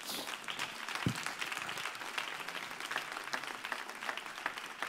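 A church congregation applauds together, a dense, steady wash of clapping filling the room at moderate volume for several seconds without letup.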